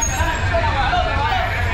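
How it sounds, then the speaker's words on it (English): Local buses in a busy street in Leon, Nicaragua, with a low rumbling engine drone and traffic noise underneath a babble of nearby voices and street chatter. "These are the local buses."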